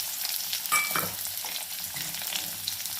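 A big onion and a green chilli sauté in a pan with curry leaves, giving a continuous crackling sizzle broken by a few close stirring scrapes and no talking.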